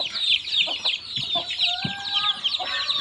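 Backyard layer hens and native Thai chickens on a small breeding farm cluck and chatter continuously, with overlapping close calls and a short crow-like phrase in the middle.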